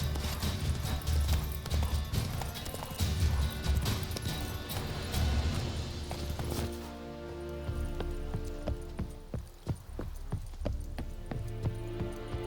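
A horse gallops in The Witcher 3 video game, rapid hoofbeats under a loud game soundscape that thins partway through, leaving sharper scattered clops and thuds.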